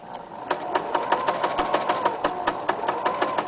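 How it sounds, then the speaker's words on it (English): A sewing machine stitching two sides of apron fabric together runs in a fast, even stream of needle clacks over a steady motor hum, close and alone. "So I'm going to back stitch"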